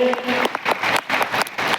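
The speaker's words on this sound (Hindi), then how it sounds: "एक जोरदार ताली और प्रोफेसर सर के लिए" Loud, sustained applause from an audience at a training program in Lucknow fills the short clip, with a voice briefly heard at the start.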